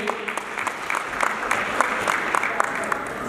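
An audience applauds at a Lions club charter night celebration, a steady dense clapping with some crowd murmur underneath throughout.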